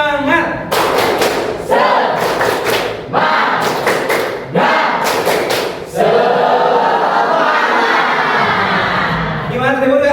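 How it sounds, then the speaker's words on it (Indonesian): A school class performs a rhythmic 'tepuk semangat' clapping chant, loud bursts of group clapping and voices in a patterned beat with short pauses, ending in a longer sustained stretch of clapping and cheering. "Tepuk semangat."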